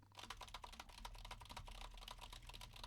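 Rapid, steady typing on a computer keyboard, with dense overlapping key clicks picked up close by a microphone and no speech.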